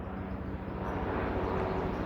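A helicopter passes overhead as a steady, fairly loud broadband rumble that holds for the whole stretch, with no talk over it.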